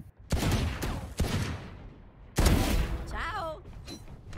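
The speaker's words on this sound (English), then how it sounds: "Wow, Yezi getting headshots now." Video game shooter gunfire comes in short loud bursts separated by brief pauses, with a quick whizzing or ricochet-like sound near the end and talking around it.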